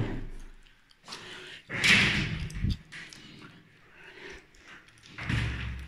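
An interior door in a house in Brugnera, Italy, is swung and shut, giving a couple of thumps and a firmer knock among quiet room sounds.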